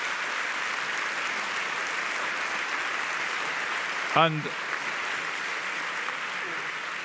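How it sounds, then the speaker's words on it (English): A summit audience keeps up sustained, even applause for a panel, a dense steady clatter of many hands, with one voice briefly speaking over it. "please give our panel the very warmest applause"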